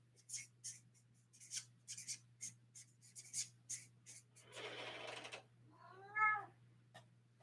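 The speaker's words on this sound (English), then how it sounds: "That, by the way, is my cat, which just came in." A house cat coming into a room, with soft rhythmic rustling and scratching of its steps followed by a distinct nearby meow, all over a faint steady hum.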